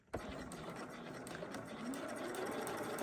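A sewing machine starts abruptly and runs steadily while stitching a hemmed seam, a close mechanical whirr with fine rhythmic needle clatter, as a voice talks over it.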